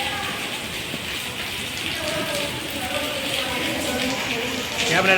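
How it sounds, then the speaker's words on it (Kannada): Steady rain falls outdoors at a television serial shooting location, a dense even hiss with patter on surfaces, continuous throughout and rising slightly at the end. "ಈಗ ನೋಡಿ ಮಳೆ ಬರ್ತಾ ಇದೆ"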